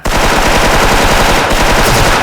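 Rapid automatic M4A1 rifle fire in the shooter game Special Force, a dense continuous burst of shots lasting the whole stretch, loud and close with no pauses and no voices.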